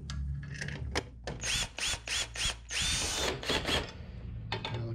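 A power drill tightens screws on a card reader mount inside a combo vending machine, several short whirring bursts with ratcheting pauses between them, close and fairly loud.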